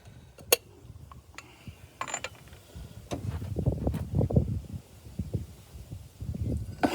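A ratchet torquing down a bolt on a 2003 Monte Carlo, with sharp metallic clicks and clatter up close, then a denser stretch of ratcheting and tool noise.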